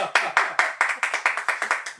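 A small studio audience claps briskly, with about a dozen sharp, evenly spaced claps over two seconds, close and fairly loud, and no voices on top.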